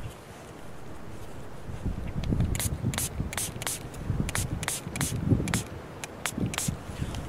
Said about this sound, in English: To start, I'm going to spray my pruners.